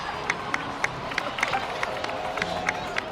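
A cheering, applauding crowd in the video game Genshin Impact's Natlan celebration: a steady bed of clapping and voices, with sharp, evenly spaced claps or stomps punctuating it at a moderate level.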